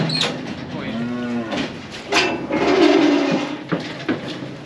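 Cattle on a farm lowing in long, loud moos, one after another with brief gaps, close by and with no talk over them.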